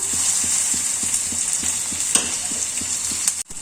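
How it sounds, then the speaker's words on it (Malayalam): Onion dropped into hot ghee in a small pan, a steady bright sizzle with regular soft stirring taps, close and fairly loud, ending in a brief clatter. "ചൂടായ നെയ്യിലോട്ട് നമുക്ക് സവാള ഇട്ട് കൊടുക്കാം"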